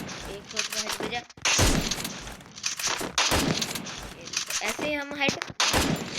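Video game AK-47 gunfire lands headshots in loud, sharp bursts, several shots cracking in quick succession with impact effects, while someone talks between and over the shots.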